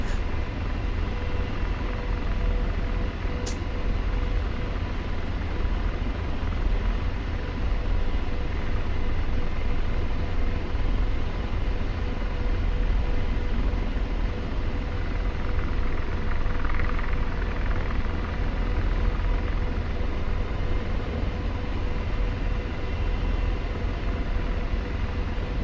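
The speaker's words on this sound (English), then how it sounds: "Apache rotor sounds you could sleep/study to." An Apache helicopter in the DCS flight simulator hums with a steady, unbroken rotor and engine drone, loud and constant throughout with a low thrumming texture and no talk.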